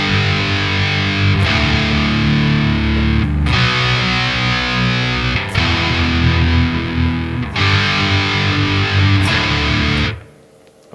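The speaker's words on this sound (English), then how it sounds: "So I'm just going to play through this last section so you can see. So it goes like this." Distorted electric guitar plays a section of a metal song, a steady loud riff with brief breaks before ringing off and cutting to near silence at the end.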